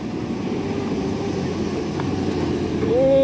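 A Hino 500 bus engine labours on a steep, rough mountain road at Batu Jomba, producing a constant low drone that grows slightly louder toward the end, with a short rising whine at the close.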